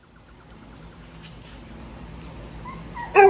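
A dog gives a short whimpering bark right at the end, loud and close, after a few seconds of low background hum.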